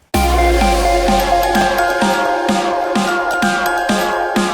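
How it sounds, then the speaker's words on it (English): A music box repeats one plucked, tinkling pattern with even rhythm, each note ringing out and decaying, loud and close with no voices. "More music box. I just added the same pattern again."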